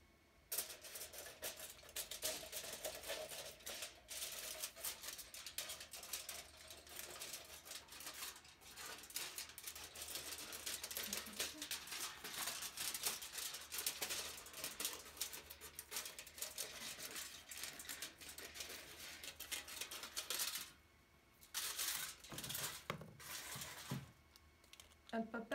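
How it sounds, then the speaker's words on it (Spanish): Scissors snipping around a paper circle for a homemade kazoo, a steady run of faint, close crisp cuts with a few brief pauses and no one talking. "Ahora cortas tu círculo con las tijeras."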